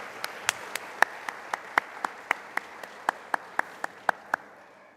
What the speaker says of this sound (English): Please join me in a round of applause to these outstanding leaders.